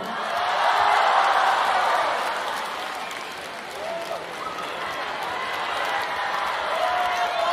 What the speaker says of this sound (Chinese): 谢谢谢谢现场的朋友们热情掌声非常的感谢